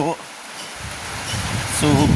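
Rain falling on a rural Thai village where a new house is being built, a soft steady hiss throughout, with someone speaking at the start and end.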